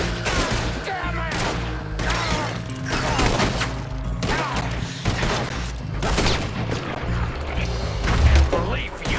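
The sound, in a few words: gunshots in video game Red Dead Redemption 2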